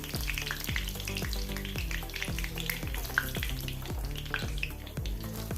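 Kerala-style banana fritters (pazham pori) in rice-flour batter fry in hot oil with a steady, dense sizzle, broken by regular soft bubbling pops throughout, close and continuous with no talking.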